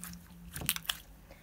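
Clear, transparent slime gives a few quick crackling crunches as it is stretched, close and quiet, with a small burst of clicky pops in the middle and no talking.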